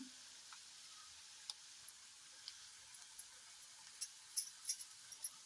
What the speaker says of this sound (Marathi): हळद सुद्धा तेलामध्ये छान अशी परतून झालेली आहे.